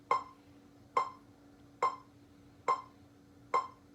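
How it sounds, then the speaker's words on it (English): A metronome set to 70 beats per minute ticks five times at an even, unhurried pace, each click sharp, close and clear over a faint steady hum. "here is the metronome setting at 70 on my metronome, and it sounds like this"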